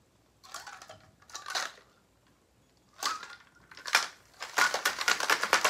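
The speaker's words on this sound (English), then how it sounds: "You obviously want to shake it vigorously on this one." A cocktail shaker full of ice is shaken hard in separate bursts: rattling, crunchy clatter in short rounds with gaps of quiet between them, ending in a longer rapid run of rhythmic shakes, close up and without talk.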